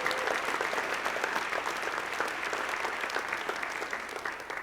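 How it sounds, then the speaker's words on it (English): An audience at an education awards celebration breaks into continuous, dense applause that holds steady throughout with no talking over it. "Give him a round of applause, please."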